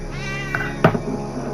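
Several cats meow and yowl in a continuous, close, fairly loud stretch, with a sharper cry near the middle, in the video game 60 Seconds! Reatomized.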